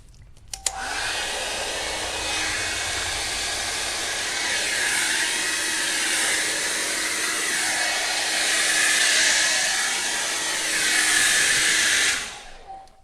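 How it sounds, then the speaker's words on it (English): A hair dryer switches on with a click and blows steadily, a loud close whooshing roar that holds for about twelve seconds before cutting off. "And take the hair dryer."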